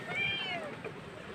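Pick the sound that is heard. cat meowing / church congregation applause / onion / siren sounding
cat meowing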